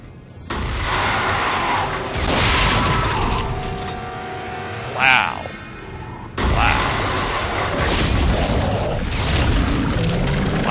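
Line gun firing in the video game Dead Space 2: loud, dense mechanical blasts and crashing, with a sharp rising whine and burst near the middle before another heavy wave of noise.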